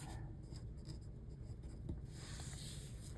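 Pen scratching across paper in a quiet room, with soft continuous strokes while someone writes out a short phrase during goal planning, close and faint.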